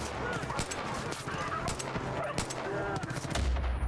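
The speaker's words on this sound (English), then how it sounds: "All those people might be hearing your gunshots" Gunfire in the video game Far Cry 5 during a co-op session: rapid, sharp shots burst in quick succession amid a busy, loud mix of game sounds and other noise, with voices faintly present.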